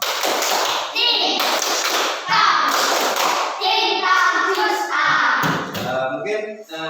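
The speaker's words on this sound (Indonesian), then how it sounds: "ayo coba tepuk semangat" A classroom of children performs the 'tepuk semangat' clapping chant, with rhythmic hand claps and thumps under their loud chanted voices throughout, a few pauses breaking the pattern.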